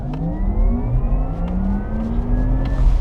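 Electric Porsche accelerating on the road, with a loud, smooth rising whine that climbs in pitch repeatedly over a low rumble of road and wind noise.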